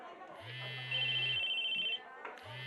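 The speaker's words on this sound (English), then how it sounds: "judging by how my ringtone was reverberating through the classroom right now" Phone ringtone from the Chaos;Head visual novel, a sustained electronic tone with a steady bright melodic buzz that runs for about a second and a half, then cuts off before restarting, over background game music.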